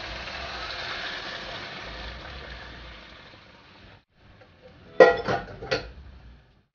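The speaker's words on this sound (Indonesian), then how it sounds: "Airnya udah mendidih, sekarang aku mau tuang ke sini." Boiling water is poured into a pot of browned chicken for soup: a broad hiss of pouring for about four seconds, then silence and a few sharp clinks of a pot or utensil.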